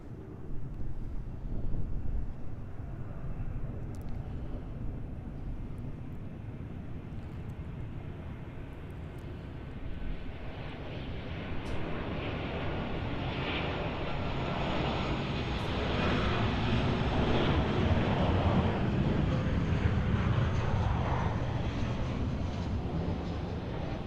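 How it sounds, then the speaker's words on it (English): Southwest airliner arriving from San Francisco, landing on runway 24 right at LAX in the evening rush: a steady, broad engine roar that swells and grows louder through the second half, with no talk. "our next arrival here on runway 24 right is going to be Southwest Flight 1469 coming in from San Francisco"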